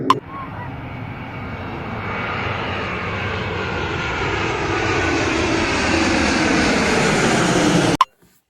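A fixed-wing airplane's engine drones loud and steady, its pitch sliding gradually as the aircraft passes overhead, ending in an abrupt cutoff with a brief knock.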